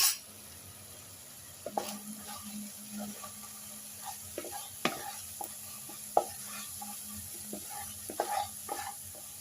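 A spoon stirs Kashmiri chilli powder, coriander powder and chana masala through a pan of chana masala, scraping and tapping in irregular close strokes over a soft background hiss.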